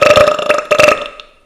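A single loud, close burp, drawn out and rough for about a second, with a brief break before it trails off into silence.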